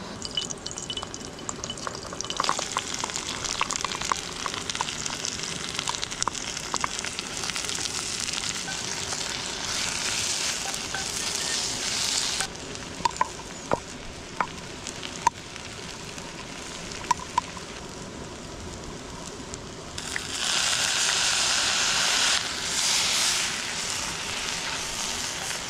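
Pulled pork and onion sizzle steadily in a pan over a camp stove while motorcycle camping, a continuous close frying hiss with occasional pops and a brief louder burst of sizzle near the end; no talking.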